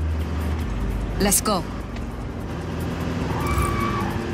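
A car in the video game Just Cause 4 drives off, its engine rumbling steadily with a brief tire squeal early on, while a voice speaks briefly over it.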